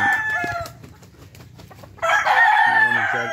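A rooster crows loudly and close in the second half, a long harmonic call, after softer clucking and farmyard chatter from backyard gamefowl.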